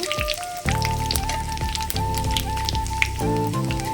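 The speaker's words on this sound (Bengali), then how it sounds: "লাল করে ভেজে নেব।" Whole spices sizzle and crackle in hot oil in a wok while tempering for a winter-vegetable khichdi, a steady close frying hiss with scattered pops, overlaid by a continuous tonal hum from a nearby appliance.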